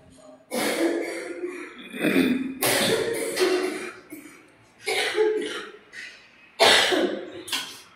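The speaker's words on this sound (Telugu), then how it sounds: "ఇంకా దగ్గు వస్తుందండి కొంచెము" Several harsh coughs close by, coming in uneven bursts separated by short breathy pauses.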